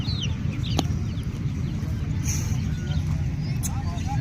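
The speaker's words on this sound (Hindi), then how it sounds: "इसी तरह इधर देखिए ये मुर्गी" Hen with her chicks clucking at a crowded outdoor bird market, soft clucks and faint peeps buried in dense crowd chatter and traffic-like rumble, with people talking throughout.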